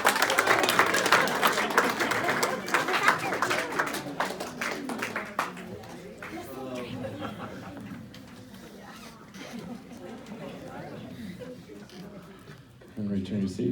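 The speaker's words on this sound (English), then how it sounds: "Give these folks a big round of applause." Loud crowd applause at a hypnosis stage show, dense clapping that gradually fades, a voice speaking over the tail end.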